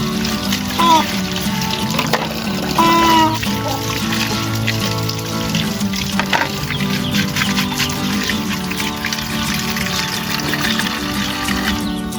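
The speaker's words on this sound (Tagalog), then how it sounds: "Lagyan muna ng kunting tubig." A small amount of water is poured into a container on a poultry farm while herbal medicine for chickens is prepared, a continuous trickling and splashing that runs under occasional talk.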